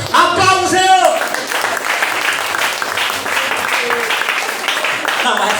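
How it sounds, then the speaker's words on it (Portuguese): A church congregation applauds during a deliverance service. A voice cries out over it at the start, then steady clapping and crowd noise carry on beneath the voice at moderate volume. "Aplausos, Senhor."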